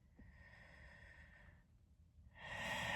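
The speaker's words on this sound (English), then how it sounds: "You can just take a breath and be like" A person takes a slow breath, soft airy inhale-exhale with a faint nasal snort near the start, followed by a louder rush of breath at the end, heard close in a quiet room.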